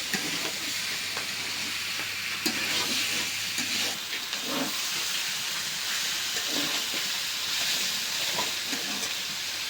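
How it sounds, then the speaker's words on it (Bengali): Sliced potatoes and flat beans fry in a pan for a vegetable curry, giving a steady close sizzle with scattered scraping and stirring sounds throughout. "এখন ভাজি দিতেছে"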